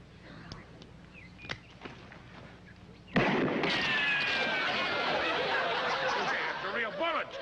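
A gunshot fired in a duel in the Western comedy Dusty's Trail: faint room sounds and small knocks lead to one sudden loud blast, followed by a dense, sustained roar that stays loud to the end.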